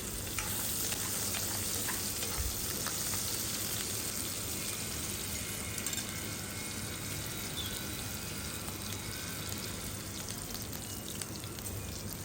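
Chopped onion and dried chillies fry in hot oil for a restaurant-style mixed chow mein, making a dense, even, close crackle and sizzle that holds steady throughout.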